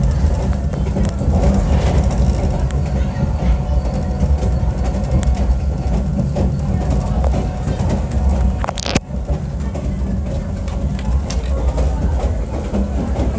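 Rumble and rattle of a SAM Shortline passenger train on the run between Cordele and Americus, Georgia, heard from inside a moving car: a steady loud low roar with faint rhythmic clatter and one sharp bang near the end.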